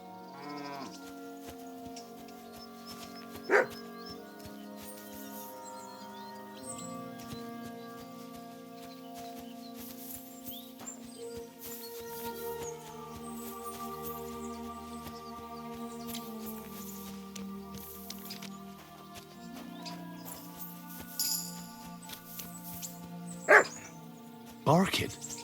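A dog barks in Kingdom Come Deliverance II, with a couple of sharp, distinct barks near the start and again near the end, heard over steady medieval game music and ambience while someone talks.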